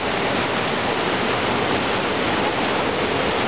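Murky water from mountain rain rushes down a stream at the Kosiv waterfalls in the Carpathians, a steady, close, full-bodied hiss and roar that never lets up.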